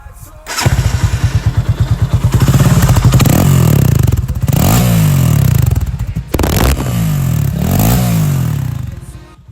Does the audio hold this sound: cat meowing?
no